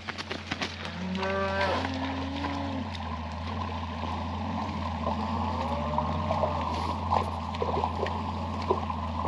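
A young calf on a farm moos in a few drawn-out calls, with a steady rush of flowing water in the background.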